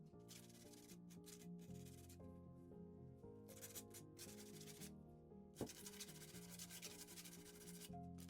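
The corners of a resin coaster are sanded by hand in faint, rhythmic scraping strokes that come in several bursts with brief gaps, with no talking.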